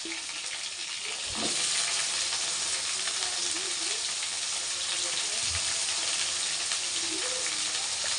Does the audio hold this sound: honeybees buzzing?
no